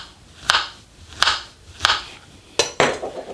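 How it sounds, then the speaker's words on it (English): A knife cuts small slices from a banana on a board, five crisp taps spaced about a second apart, close and clear with no talking. "some people just do your little slices like this"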